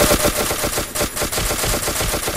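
Rapid automatic gunfire in the video game Ace of Spades, a loud clattering stream of shots with brief gaps, firing up close throughout.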